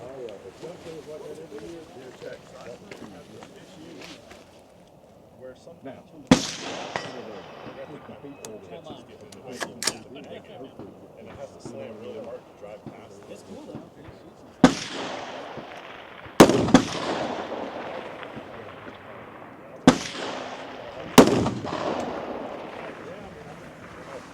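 Several sharp, loud rifle gunshots crack out at irregular intervals at a DMR (designated marksman rifle) shooting match, each ringing off, over a murmur of distant voices and outdoor noise.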